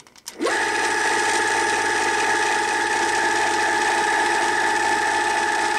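An EMCO FB2 milling machine spins up quickly at its lowest speed and settles into a steady mechanical whir with a faint ticking rattle, running evenly and close by.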